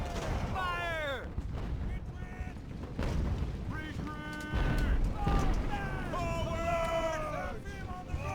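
Cannon fire in the naval battle game Ultimate Admiral Age of Sail, deep booming shots and rumble under shouting voices and battle noise, several blasts layered through the scene.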